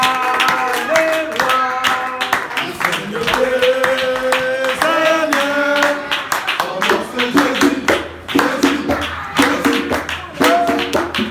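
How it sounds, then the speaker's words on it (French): A church congregation clapping for Jesus during worship, rhythmic claps ringing out over music with sustained tones and singing voices throughout. "Applaudissons pour Jésus"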